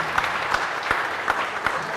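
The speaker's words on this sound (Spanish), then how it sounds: "Fuerte aplauso entonces para el Señor" Steady applause from a congregation in a chapel, continuous clapping with a few sharper claps standing out, fairly close and sustained throughout.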